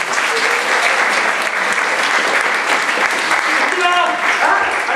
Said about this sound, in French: Mesdames et messieurs, veuillez applaudir mon urinoir.